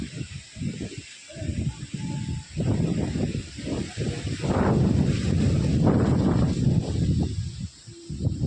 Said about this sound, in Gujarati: કેટલો જોરદારનો પવન આવે છે તે આ બધી કેરી નીચે પડી ગઈ જો